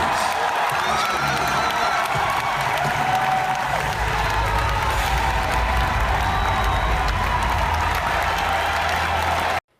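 A large E3 gaming expo crowd applauding and cheering in a big hall, sustained dense clapping with scattered whoops, loud and continuous until it cuts off abruptly near the end.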